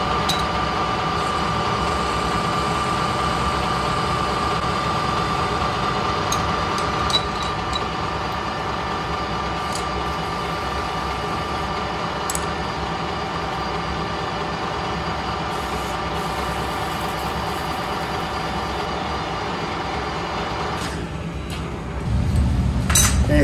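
A lathe faces a steel part off a 1937 New Imperial motorcycle frame, a continuous loud mechanical whir with faint metallic ticks and clinks, holding steady throughout before a deeper rumble swells near the end.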